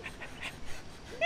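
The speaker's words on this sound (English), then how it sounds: "He's panting like this." A thirsty dog pants softly in short rapid breaths, close and fairly faint, with a brief whine at the end.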